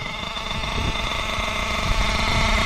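A small nitro engine with its carburetor being tuned idles slightly too high, a buzzing pitch, loud and steady throughout, with no voices over it.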